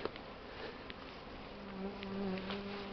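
Honeybees fly out of their hives on a winter day, a steady close buzzing hum from many insects with individual bees droning past, no talking.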